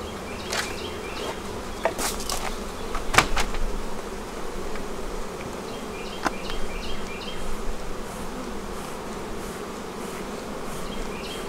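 Angry honeybees buzz loudly from an opened hive in a bee yard, a dense steady drone with individual bees zipping close past at intervals, no talk.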